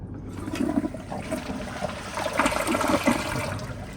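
Full flush of a 2014 Glacier Bay dual-flush elongated toilet, a close rushing, gurgling surge of water that churns steadily for several seconds.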